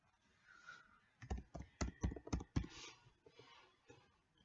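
A short burst of about eight sharp keystrokes on a computer keyboard, close and distinct, between quieter stretches.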